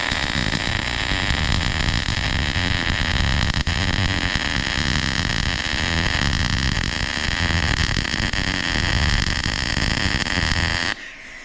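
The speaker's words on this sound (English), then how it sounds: "A nice straight weld." MIG welding a straight bead, a loud, steady crackling buzz that runs unbroken for about eleven seconds before stopping abruptly.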